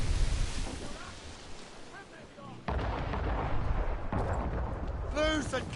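Ship cannons in Assassin's Creed Rogue boom in heavy, loud bursts over rolling ocean waves, with crew voices shouting between the shots.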